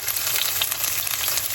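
About half an onion cooking in a pan, giving a steady, close sizzle and crackle of frying with no break.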